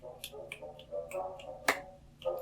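A few quick finger snaps from children sound over quiet music during a classroom activity, with one sharper snap standing out near the end.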